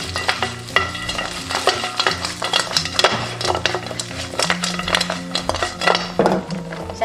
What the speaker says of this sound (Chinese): 倒入排骨翻炒均匀。